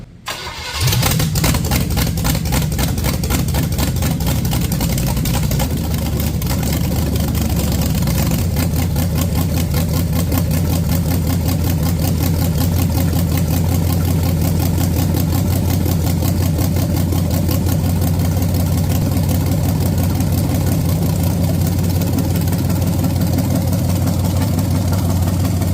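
Just after firing up, a budget-built small-block Chevy V8 with a mystery cam settles into a loud, lumpy idle. The low, pulsing rumble runs close and steady for over twenty seconds.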